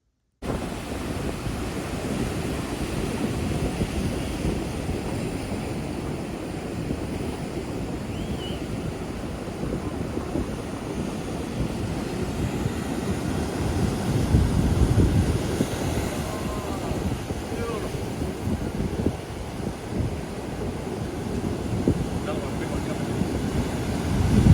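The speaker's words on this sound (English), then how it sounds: "it was really windy that day, so the waves were crashing" Strong wind blows at an ocean shore while waves crash in, a continuous rumbling roar with heavy wind buffeting on the microphone, swelling slightly near the middle and end, with no talking.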